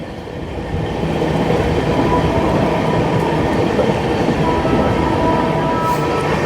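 The Odisha Sampark Kranti express on the Tatanagar to Delhi run, racing a parallel train at about 130 km/h: a loud, steady roar of rails and wheels with a faint clatter, rising at the start and then holding constant, with no talk.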